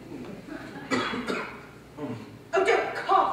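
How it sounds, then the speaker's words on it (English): A man coughs a few times indoors, short rough bursts spaced over a few seconds, close and moderately loud. "Oh, don't cough"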